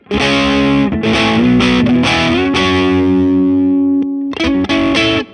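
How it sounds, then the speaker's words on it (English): An electric guitar played through an Ambassador overdrive pedal in AmpliTube 5, heard as loud, driven chords that ring and sustain, with a brief pause before a final strummed chord. "No, this is OverDrive, definitely."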